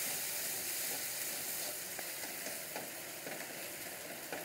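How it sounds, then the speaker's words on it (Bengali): Curry masala with cashews sizzles and fries steadily in a pan for Bengali doi katla fish curry, a dense, continuous hiss close by with faint stirring scrapes. "আবার আমি ভালো করে কষিয়ে নেব।"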